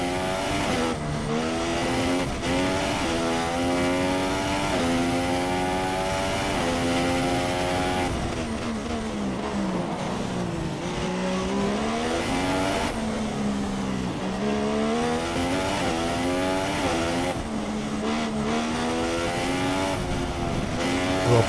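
An F1 car engine in F1 2016 wails at high revs throughout, climbing and dropping through gear changes in continuous loud sweeps, with faint tyre squeal and no talking.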